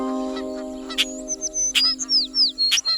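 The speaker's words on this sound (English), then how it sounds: "they saw a group of parrots twittering aloud." A group of parrots chirps and squawks in quick, bright bursts, several sharp calls tumbling over one another above a steady humming musical tone.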